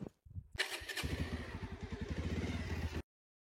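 A motorbike starts with a couple of clunks, then its engine catches and idles in a rapid, even putter close by before cutting off abruptly into silence.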